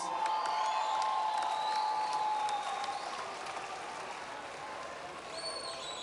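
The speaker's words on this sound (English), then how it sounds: "Give both our top two ladies a big round of applause." Crowd at a Golden Shears ladies' sheep shearing final applauds the top two shearers, a broad patter of clapping with some cheering and whoops, easing slightly toward the end, with an announcer's voice faintly underneath.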